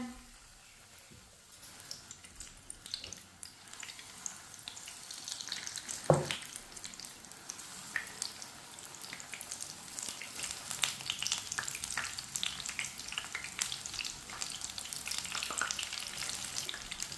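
Egg pakoras coated in gram flour batter fry in hot oil with a steady crackling sizzle that builds as more pieces go in, with a sharp spatter near the middle and occasional light clinks.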